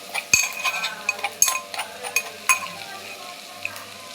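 Crushed garlic chili powder added to frying broad beans in a pan, sizzling with clinks and scrapes of a spatula stirring, close and moderately loud with no talk.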